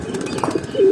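A pigeon's wings flap in a short, close burst of soft fluttering beats, followed by a brief low coo-like tone at the end.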